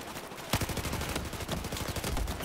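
Sustained machine gun fire from an MG4 in the shooter game Battlefield 4, rapid rattling bursts of shots with sharp accents, loud and dense throughout.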